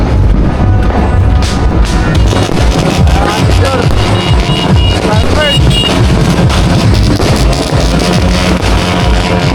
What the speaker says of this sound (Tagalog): Manonood po tayo ng mga maiingay na motor.